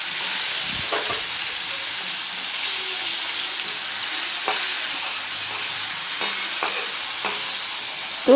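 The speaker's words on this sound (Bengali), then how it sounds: "তো এইখানে আমি এখন মাছগুলোকে ভেজে নিচ্ছি।" Fish frying in a pan for a potato and pointed gourd fish curry, giving a steady, loud, close sizzle with a few scattered clinks and scrapes from turning the pieces.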